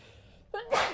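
A single sharp sneeze, preceded by a short vocal intake, close and fairly loud against a quiet background.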